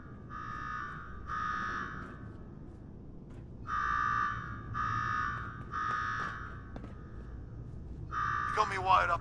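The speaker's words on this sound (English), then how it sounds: "Now go shut off that damn alarm." An alarm blares in the Fallout 4 Nuka-World game in a run of repeated buzzing pulses with short gaps, set against a low background rumble and a final clattering burst.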